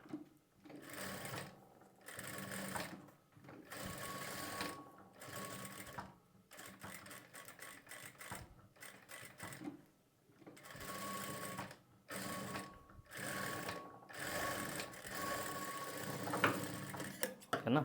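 A sewing machine stitches a blouse lining in repeated runs of rapid mechanical whirring, each lasting a second or two and separated by short stops, close and moderately loud.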